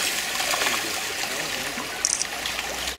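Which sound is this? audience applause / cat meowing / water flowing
water flowing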